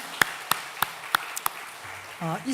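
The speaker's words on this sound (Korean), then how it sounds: "우리 수고한 우리 청년들, 우리 격려의 박수 한번 부탁드리겠습니다" A church congregation at a Sunday morning service applauds its youth: about six slow, evenly spaced claps ring out in a quiet hall, followed by a voice beginning to speak.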